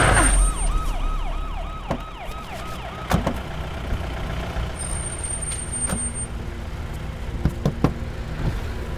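A wailing siren sweeps up and down repeatedly, then fades, leaving traffic rumble and an air brake hiss; a high steady tone appears midway.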